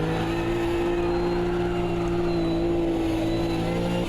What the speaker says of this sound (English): I'm going to full throttle it out of the pits here and try and hold it under acceleration